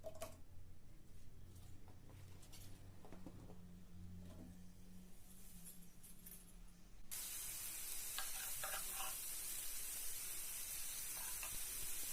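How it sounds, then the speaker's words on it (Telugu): Bitter gourd pieces and cumin fry in hot oil in a pan, a quiet sizzle that swells into a louder, steady hiss partway through, with faint ticking from stirring. "కొంచెం జీలకర్ర కట్ చేసి పెట్టుకున్న కాకరకాయ ముక్కల్ని వేసి కలుపుకోవాలి"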